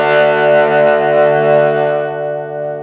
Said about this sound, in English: It's really a bit overdriven when you turn the gain up.